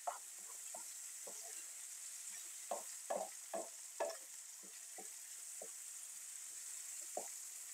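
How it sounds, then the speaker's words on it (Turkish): Peppers sauté with softened onions in a pan, with a steady bright sizzle under irregular clacks of stirring, some soft and some sharper, close by. "Şimdi biberlerimi ilave ediyorum. 1-2 dakika biberlerimi de soteliyorum."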